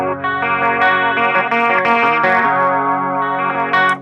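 An electric guitar with chorus and distortion effects plays bar 4 of a song, strumming a chord on only the lower strings in a sustained, ringing pattern with no talking.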